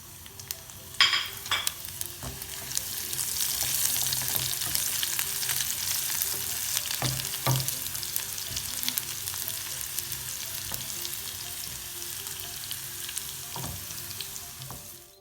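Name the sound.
tempering garlic, curry leaves and cumin frying for dal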